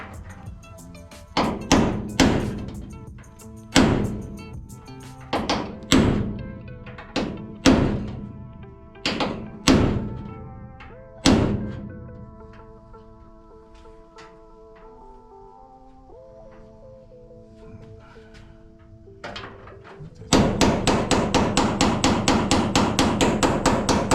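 A hammer strikes body metal on a 1949 Jeep Willys pickup, about a dozen sharp, ringing blows at uneven intervals, close and loud, then a quieter pause before a fast run of lighter taps.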